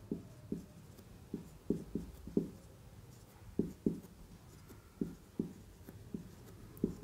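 Pen or chalk writing out math working on a board or paper, a quiet series of short scratchy taps and strokes in an uneven rhythm, close and without talk.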